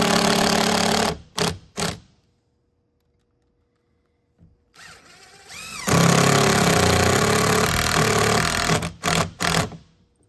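Power drill driving screws into a 2x6 board during a swim spa cover shelf installation: several short buzzing bursts, then a longer sustained whir, followed by more brief bursts, loud and close with silence between.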